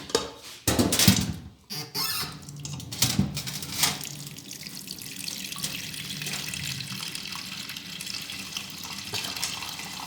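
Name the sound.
water poured into a pot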